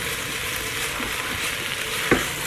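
Food sizzles in a frying pan during a keto meal prep, a steady close-up crackling hiss with a brief clink of a utensil near the end.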